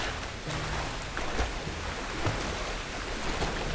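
A waterfall in Tomb Raider Definitive Edition rushes as a steady, broad wash of water noise, fairly quiet and unbroken throughout, with no talk over it.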